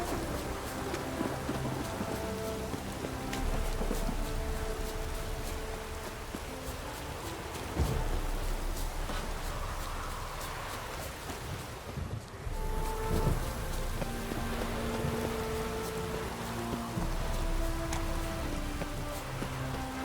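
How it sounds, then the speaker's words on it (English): Steady rain pours in The Witcher 3 with rolling thunder and gusts of wind, a dense continuous wash of drops lasting throughout, loud and close with no talking. "No use doing any work in this rain."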